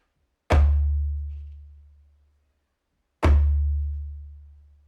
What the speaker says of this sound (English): this is a djembe. It's a West African drum.